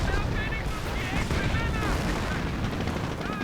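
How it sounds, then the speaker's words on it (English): Dense, continuous bursts of gunfire and booming explosions from grenades thrown into a trench in a World War strategy game, loud and overlapping throughout, with a commentator talking over the battle. "Another grenade right into the trench."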